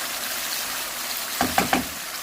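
Whole spices, black cardamom, cinnamon, bay leaf and cumin seeds, fry in hot oil for chicken curry, a steady close sizzle with three quick stirring scrapes in a row.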